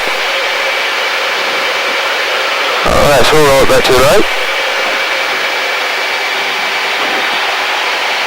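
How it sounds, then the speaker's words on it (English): Jet engine roar, a steady broadband rush, runs throughout while the aircraft flies upside down in inverted flight; someone talks briefly over it in the middle. "So the jet flies just fine upside down."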